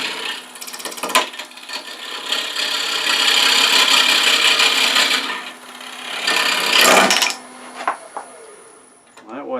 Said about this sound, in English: I started rubbing with that parting tool.